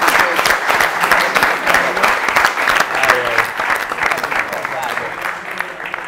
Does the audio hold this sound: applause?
yes